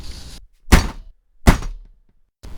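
A radio-drama trip and fall: two heavy, loud thuds about three-quarters of a second apart, each with a crashing clatter that quickly fades, set between quieter stretches of room noise.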